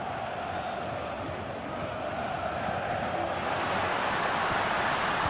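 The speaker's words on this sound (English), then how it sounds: "Being egged on by the crowd." Football stadium crowd at an Inter Milan versus Bayern Munich match, a steady broad roar of cheering fans that swells slightly toward the end, with no break in the noise.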